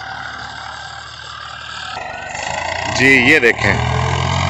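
A tractor pulling a potato planter through a farm field keeps up a steady, droning engine hum, with someone speaking over it near the end.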